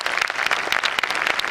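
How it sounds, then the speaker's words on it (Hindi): A conference audience at the valedictory function bursts into loud, dense applause, many hands clapping steadily throughout with a faint murmur beneath and no voice on top. "जोरदार तालियां बजाकर आप उनका स्वागत करें"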